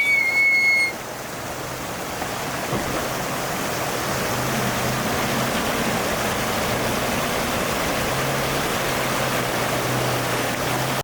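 A mountain stream in Kyrgyzstan rushes steadily nearby, a constant broad wash of flowing water, with a brief whistle-like tone right at the start.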